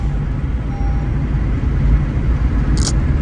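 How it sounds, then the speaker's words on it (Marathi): A car driven by a learner hums and rumbles steadily from inside the cabin, with a short high chirp near the end. "शंभू गाडी चालवतोय"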